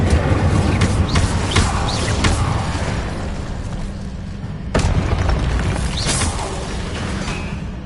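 A fire spell cast in a Harry Potter video game bursts out in two loud booming blasts, the second landing near the middle, over a steady roaring rumble of game ambience and with no talking.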